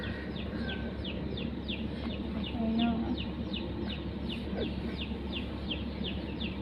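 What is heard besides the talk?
roosters at a cockfight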